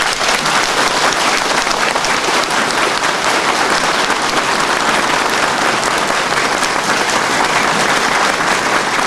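A crowd applauds a mayoral candidate in Çubuk as he announces his candidacy, with steady, dense clapping that stays loud and unbroken throughout.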